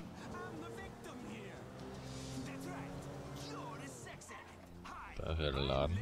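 A car driven in the video game GTA 5, engine revving with shifting pitch and a passing whoosh, a person talking over it, and a louder surge of engine noise at the end.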